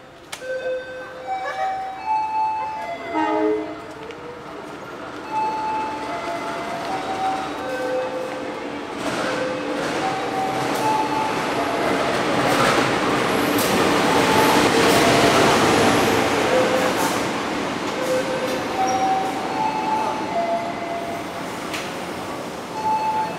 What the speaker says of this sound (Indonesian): kereta api Kahuripan yang akan membawa saya ke stasiun Lempuyangan sudah sampai di jalur